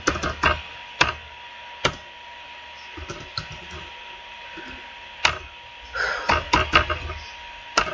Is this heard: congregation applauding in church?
no